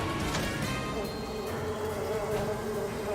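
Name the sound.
buzzing bees in a cartoon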